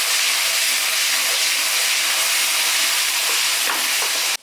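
Garlic paste sizzling in hot oil for prawn malai curry with fresh coconut, a loud, dense, continuous hiss and crackle throughout.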